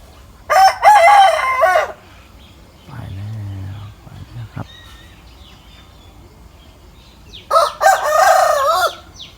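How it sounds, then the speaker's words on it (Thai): Two roosters crow in turn on an early-morning farm, one long cock-a-doodle-doo near the start and another near the end, with a softer clucking call in between. "ฟังเสียงไก่ขันครับ ไก่โต้ง"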